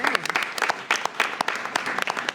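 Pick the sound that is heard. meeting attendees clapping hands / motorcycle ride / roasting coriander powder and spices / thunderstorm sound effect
meeting attendees clapping hands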